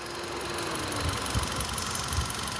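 A car engine idles steadily at close range, a continuous low rumble with faint rhythmic pulsing and no voices over it, on a used car offered for sale in Tiruchendur.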